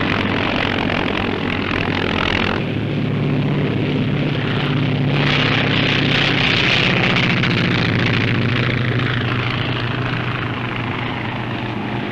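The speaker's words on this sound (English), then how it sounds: "Colonel and Mrs. Lindbergh are off again on their air travels round Europe after a brief 7-day stay in Paris." A 1933 Lockheed Sirius propeller aircraft flying, its engine giving a steady droning roar that stays loud throughout and swells and shifts partway through.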